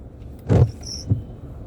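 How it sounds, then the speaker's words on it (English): Windshield wiper on a Nissan Magnite car making an irritating noise: a single loud scraping sweep up close, followed by a short squeak and a fainter second stroke inside the cabin, with no talking. "The wiper makes irritating sound."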